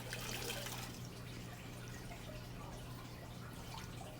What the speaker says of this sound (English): anything that I put into a filter that's brand new always gets a rinse. So I'll give this thing a rinse